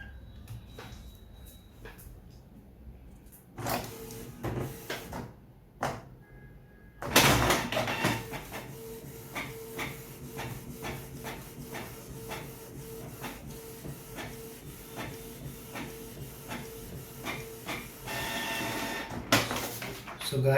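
A Canon Pixma G3000 printer feeds and prints on A4 paper: a few mechanical clicks and whirs, then a sustained run of rhythmic carriage passes and rolling feed noise, with faint voices at times.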